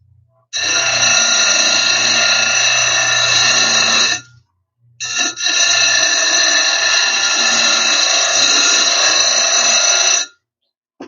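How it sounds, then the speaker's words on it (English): A CabKing cabbing machine grinds fire agate on an 80 grit wheel, giving a loud, steady high whine in two long bursts separated by a short pause, with no talking. "That 80 grit just eating through that agate, man."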